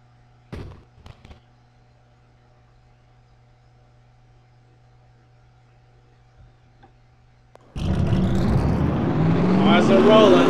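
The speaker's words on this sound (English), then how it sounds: "Drivers, start your engines!" NASCAR race car engines fire up at the Aaron's 499 in a racing video game, with a sudden loud, rising mechanical roar bursting in after a long quiet stretch with a few brief clicks and continuing to build until the end.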